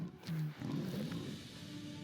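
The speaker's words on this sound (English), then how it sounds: "this is the lion that tried to attack his sheep" A lion roars in an animated film about David, a deep rumbling growl that swells into a loud roar and then trails into a sustained lower snarl, with no talking.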